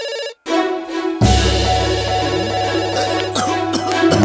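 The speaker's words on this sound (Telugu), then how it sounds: "ఫోన్ రా. ఎవరు చేసిందా?" Telephone ringing indoors, a repeated electronic ringtone with steady tonal bursts, moderately loud, over a low background hum.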